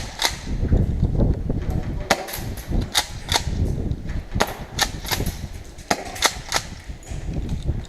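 A Golden Eagle M870 gas-powered airsoft pump shotgun fires a series of sharp, crisp pops, roughly a dozen shots at irregular intervals over steady low rumbling background noise.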